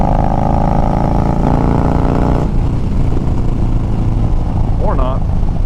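Yamaha Bolt motorcycle engine droning steadily as it accelerates, its note shifting mid-way, with wind noise throughout and a brief voice near the end.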